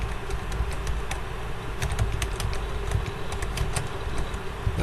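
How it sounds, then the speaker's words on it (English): Numbers are typed on a computer keyboard: a quick, uneven run of sharp key clicks over a low steady background hum, close and moderately loud, with no talking. "I'm just gonna type over these numbers this time"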